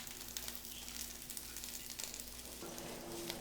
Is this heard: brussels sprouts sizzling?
yes